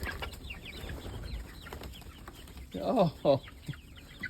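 Chickens in a coop cluck softly and intermittently at moderate distance, with a couple of louder, nearer squawks near the end; a person briefly speaks once.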